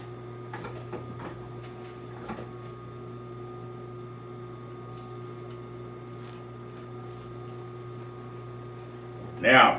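A sewing machine stitches upholstery material along an edge for a 1955 Chevy two-door post interior in a trim shop, giving a steady motor hum with light ticks early on and a short louder clatter at the end.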